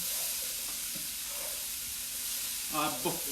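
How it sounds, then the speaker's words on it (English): Green beans sauté in olive oil with salt over high heat, giving a steady, close frying sizzle that runs throughout, with a couple of brief louder stirring clatters near the end. "So we're trying to brown it."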